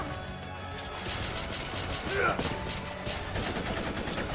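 Gunfire in a Death Battle animation of Lara Croft versus Nathan Drake, rapid repeated shots over a busy mix of background sound effects and music, moderately loud and continuous.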